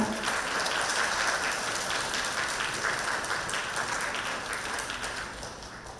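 A crowd at a school graduation ceremony applauds a student award winner with dense, sustained clapping that holds steady, then gradually thins and fades near the end, with no talk over it.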